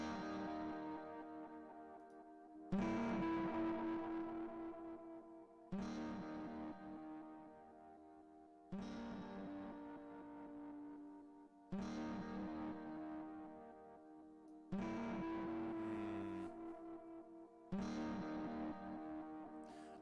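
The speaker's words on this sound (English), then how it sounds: "Extreme distortion effect." A guitar with an extreme distortion effect plays seven heavy, sustained chords, each struck about every three seconds and left to ring out and fade before the next hit, with no one talking.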